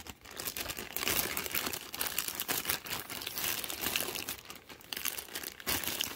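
Bubble wrap packaging crinkles and crunches continuously at close range while a box of Lego haul items is unpacked, dense irregular crackling with brief pauses.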